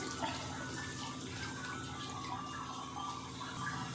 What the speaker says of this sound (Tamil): நல்லா முங்குற அளவு தண்ணி ஊற்றிடுங்க